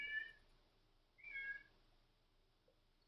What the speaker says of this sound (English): I got a cat outside meowing.